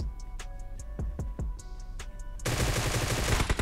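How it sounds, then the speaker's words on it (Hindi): Gunfire fired into smoke in PUBG Mobile, with a string of sharp evenly spaced shots over steady background hum, then a sudden loud dense burst of rapid fire filling the last second. "अब भाई मैं स्मोक में गोलियाँ चलाऊँगा"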